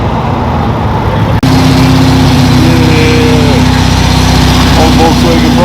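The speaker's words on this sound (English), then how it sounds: "Volkswagen bus." A Volkswagen bus rolls past at a busy car meet, its engine a steady close drone under crowd chatter alongside other idling cars.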